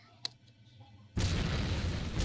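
A bomb blast in a video game bursts in abruptly after a quiet stretch with a small click, then a loud, sustained explosive roar fills the rest.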